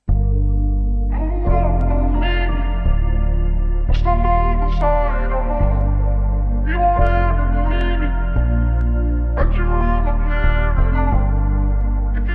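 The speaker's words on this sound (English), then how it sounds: "let's add some reverb to that" A repeating music loop of sustained bass and chord stabs with a heavy reverb wash, each hit ringing out and blending into the next.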